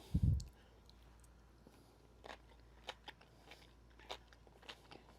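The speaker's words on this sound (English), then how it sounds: "Let me try this cucumber salad" One loud, crisp crunch of a bite into cucumber salad, then quiet with a few faint chewing clicks.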